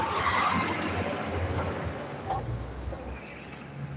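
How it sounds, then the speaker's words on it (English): A school bus rolls past on a road outside, a close, steady rushing roar of tires and engine that swells and then eases over about four seconds, with no voices. "That was a school bus going by"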